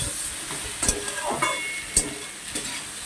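Vegetables cook in a pan, giving a soft continuous sizzle broken by several sharp clinks and scrapes as they are stirred, heard close with no talking.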